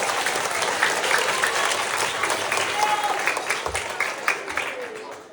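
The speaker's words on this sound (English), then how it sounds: "big round of applause for Graham for leading this morning's circui" Steady, full applause from a school assembly audience, dense clapping that holds loud and even for several seconds before tapering slightly with a few scattered claps near the end.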